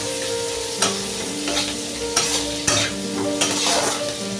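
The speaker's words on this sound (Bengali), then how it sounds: "পেঁয়াজটাকে একদম ব্রাউন করে ভালো।" Chopped onion frying in a pan until browned, with a steady sizzle under repeated stirring scrapes that come in sharp bursts every second or so, close and fairly loud, with no talking.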